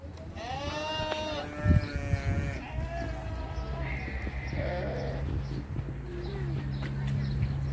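Sheep, goats and lambs roaming outdoors in an Istanbul hobby garden bleat in a string of overlapping calls, some high and wavering, others lower, over a low background hum, with faint voices at times.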